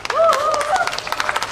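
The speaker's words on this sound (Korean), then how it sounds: "박수와 함께 시작하겠습니다." An audience at an outdoor marine leisure festival concert claps along to start a song, with scattered rhythmic claps under a shouted, sung voice and crowd noise.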